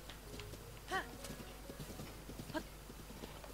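Horse hooves in Zelda Breath of the Wild on the Wii U, a quiet run of clip-clop steps with two brief whinny-like calls near the start and middle, faint and under low background sound.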